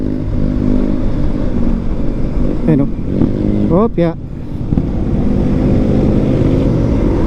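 An F850 motorcycle passes on the road with a steady, loud engine roar that fills the whole stretch, while someone speaks briefly over it.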